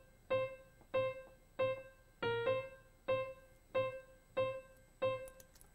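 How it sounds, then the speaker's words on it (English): Dry, unprocessed piano with no delay or other effects, striking eight evenly spaced chords in a steady rhythm, each note decaying cleanly before the next, heard close and alone without any voices. "I added some piano, which sounds like this without any effects on it."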